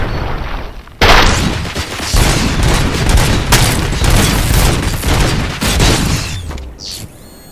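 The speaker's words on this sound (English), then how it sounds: "We must smash that thing. Fire at will." Gunfire in the video game Robocop Rogue City, loud sustained bursts of rapid shots and booming impacts that start abruptly and roll on for several seconds before cutting out.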